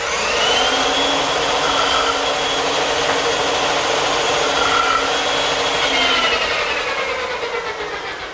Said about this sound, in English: Now the bandsaw is a good choice to remove the rest of the material to form the tenon